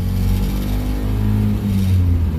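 A car floored in first gear pulling out in front of a truck, its engine roaring loud and steady from close inside the cabin, with no one speaking.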